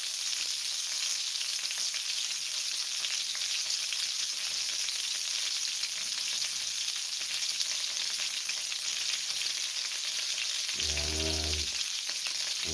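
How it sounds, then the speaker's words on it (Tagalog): Longganisa sausage fries in a pan with a dense, even crackling sizzle throughout, and a brief low rumble near the end. "Cooking linggonisa."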